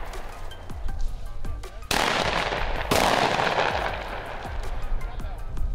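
Shotgun blasts during a quail hunt in Georgia: two loud, sharp reports about a second apart ring out in the open field, each trailing off, with faint background sounds around them.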